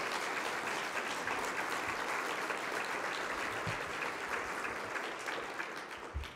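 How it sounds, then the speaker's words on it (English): An audience at a community presentation about a youth-run kids' closet project applauds warmly, a continuous, even roar of clapping that holds for about six seconds before starting to thin out at the end. "So if we could again give them a round of applause for their..."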